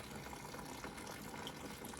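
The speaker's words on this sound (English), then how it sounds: "we're going to put about 1/3 or so of water in there" Water pours steadily into a container while homemade laundry detergent with OxiClean and baking soda is being mixed, a continuous close gushing fill sound with no talk.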